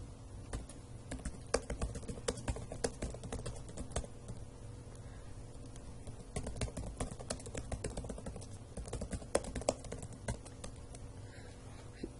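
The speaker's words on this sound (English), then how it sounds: "I'm just going to type a question in" Typing a question on a computer keyboard, with steady, quick key clicks running throughout at moderate closeness, in small bursts and with brief pauses.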